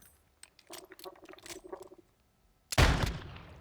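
A single loud, sharp gunshot burst from Warzone 2 rings out near the end, trailing off quickly, after a stretch of quieter clicks and clatter.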